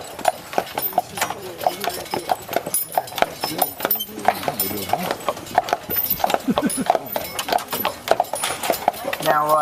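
A horse pulls a tour carriage on Mackinac Island, its hooves clip-clopping in a steady rhythm close by while a voice talks over it throughout.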